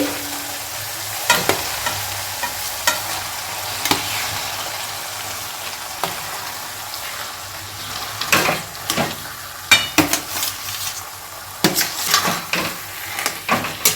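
Potato pieces stirred with spices in a hot pan for aloo kochuri filling, a steady sizzle under repeated scraping strokes of a spoon against the pan, close and moderately loud, with no talking.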